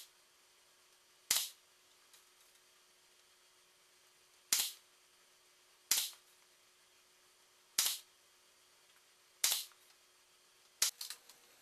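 Sharp nail gun shots driving a thin strip into a wooden bookcase face frame, six separate cracking bursts spaced a second or more apart in a quiet room, the last one doubled.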